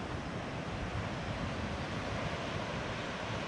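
Dense, steady roar of waves and wind on an overcast morning at a gated Hawaiian beach, Kings Landing (Pumaile), loud and unbroken throughout with no voices.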